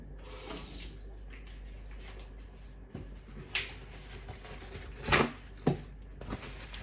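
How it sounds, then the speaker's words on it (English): Tap water running steadily while an object is rinsed under it, a soft continuous splash broken by a few brief clinks and handling knocks, fairly close and quiet. "So what you do first is you rinse it under water."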